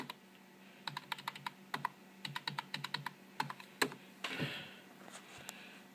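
Fingers tap on a computer keyboard at a desk, a brisk run of crisp, close clicks in irregular bursts with short pauses, ending in a soft rustle.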